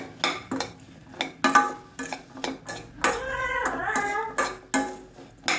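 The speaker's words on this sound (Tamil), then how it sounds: "நல்லா எல்லாம் சேர்த்து ஒன்றா வதக்கி விட்டலாம்" A bottle gourd mixture sautés in oil in a pan. A ladle clanks and scrapes against the metal in a quick, rhythmic run of close, bright knocks, with a short tonal stretch in the middle.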